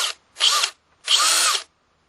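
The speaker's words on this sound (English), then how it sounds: "and then you have to go all the way to the end for the drill action" Bosch DDS182-02 brushless compact cordless drill, running with no load in two bursts, a short whir and then a longer one, each spinning up and stopping, close and loud with no talking.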